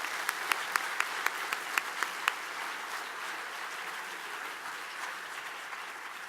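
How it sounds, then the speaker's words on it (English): An audience applauds after a lecture in a hall with an even, moderately loud clapping wash, and a few sharp individual claps stand out near the start. "Let's give Mr. Weeks another round of applause."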